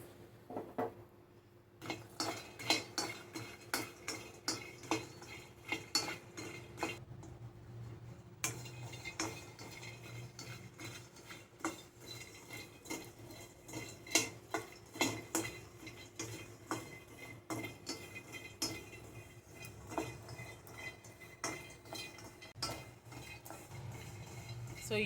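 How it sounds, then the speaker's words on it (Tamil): Walnuts dry-roast in a pan over a high flame for multigrain laddoos, with frequent dry clinks and scrapes of a spoon stirring against the metal in a quick, irregular rhythm, close and fairly quiet. "வால்நட், இதையும் ஹை ஃப்ளேமில் வச்சு கொஞ்சம் நம்ம வறுத்துக்கலாம்."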